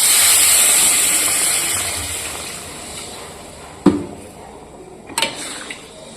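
Water poured into a pan of spice masala already frying in oil for a fish curry, producing a loud steady sizzling hiss that gradually fades, with a couple of sharp clanks of a utensil against the pan near the end.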